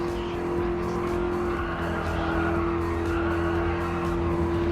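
Cars racing in Gran Turismo Sport, engines droning loud and steady throughout with a constant high whine, tires squealing and skidding over the top as the pack is passed on the final lap.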